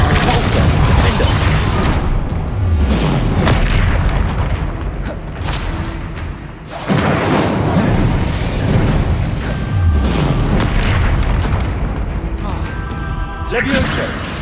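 Spells are cast in the Hogwarts Legacy video game as a loud, continuous barrage of magical booms, blasts and crackling bursts, with a few brief dips, while a voice speaks over the action.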